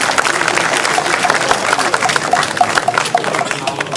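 Audience applause fills a breakdance event honoring a top rock and footwork dancer, a dense, steady wash of clapping throughout with crowd noise mixed in.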